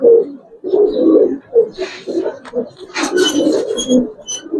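Pigeons, Giribaz and coloured breeds at a market sale, coo in low throaty bursts through the clip alongside scattered chirps and some background voices.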